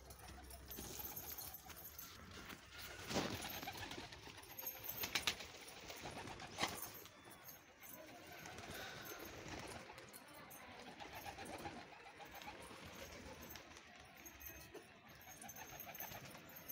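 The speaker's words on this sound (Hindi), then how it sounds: "दाना खा रहे हैं और घूम रहे हैं छत पर।" Homing pigeons on a rooftop, soft cooing and scattered wing flaps over quiet outdoor ambience, fairly distant and faint, with a few brief sharper flutters.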